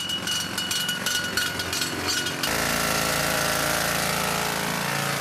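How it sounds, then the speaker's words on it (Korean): A rock drill bores holes for dynamite inside a gold mine tunnel, starting with a rapid hammering chatter and then settling into a loud, continuous, grinding roar that fills the space. "차감기라 부르는 공구로 다이너마이트를 심을 구멍을 뚫는 작업자들."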